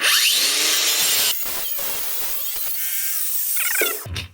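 A Bosch Multiwheel saw disc on an angle grinder cutting through wood, a loud high whining cut that drops off, then sputters in short bursts before winding down.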